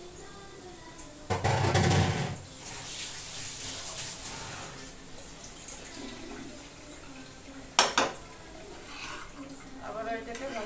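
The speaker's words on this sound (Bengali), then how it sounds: "আবার এটাকে ভালো করে নেড়ে ছেড়ে দেব।" Soaked flattened rice and egg are stirred in a pan, with a couple of brief scraping, rustling bursts over a soft, steady sizzle.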